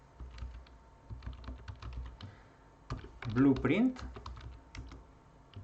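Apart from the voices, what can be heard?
typing on a computer keyboard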